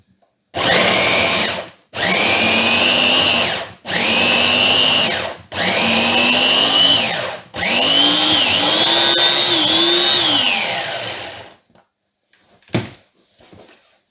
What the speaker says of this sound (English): I'm gonna put this on because this is freaking loud.